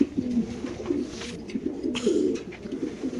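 Racing pigeons coo repeatedly up close, a soft throaty burbling that rolls on in overlapping phrases, with no voices.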